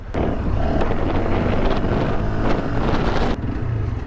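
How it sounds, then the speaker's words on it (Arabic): Engine of a used Sym NHT 200 scooter idling steadily up close during a vibration check, a continuous loud low rumble with rattling and wind-like roar throughout, no talk. "دابا باش نجربوا واحد الفيبراسيون فيه نشوفوا واش من ناحيه توب كيس كدير داك المشكل"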